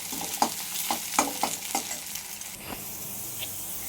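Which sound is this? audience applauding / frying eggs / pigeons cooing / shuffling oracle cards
frying eggs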